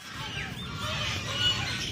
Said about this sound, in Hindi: ये जी पूरा एक गैंग है बतखों का